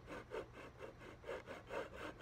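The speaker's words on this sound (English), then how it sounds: "start sawing the slots for the frets" A hand saw rasps through wood cutting fret slots for a guitar, in steady back-and-forth strokes, soft and close, about eight even passes with no talking.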